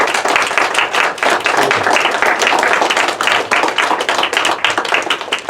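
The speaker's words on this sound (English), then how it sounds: "Please give them a nice round of applause." A crowd applauds loudly and steadily, many hands clapping together in a dense, sustained burst.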